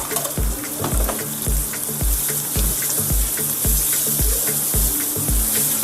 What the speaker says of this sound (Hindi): इसको मसाले में भूनेंगे ताकि मसाला चिकन के अंदर अच्छे से चला जाए।